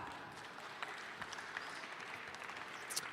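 Audience applause at a hackathon opening ceremony in San Francisco, a brief spread of clapping heard fairly faint and distant, steady across a few seconds.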